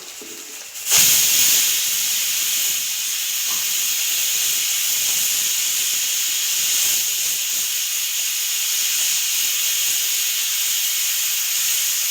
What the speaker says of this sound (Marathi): जिरं, कांदा भरपूर टाकणार आहे आपण.